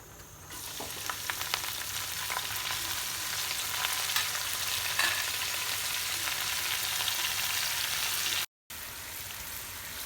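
Leafy greens (shak) frying in a pan on a stove give a dense, continuous sizzle near the mic, steady and unbroken apart from a brief cut near the end, with no talk.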